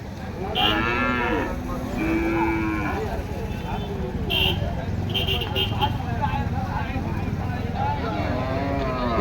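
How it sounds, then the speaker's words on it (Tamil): A native breed cow moos at a busy cattle market, several drawn-out lowing calls over steady crowd noise and engine rumble, with people talking nearby. "இப்படி ஒரு நாட்டு மாடு எட்டு வந்துருக்குறாங்க."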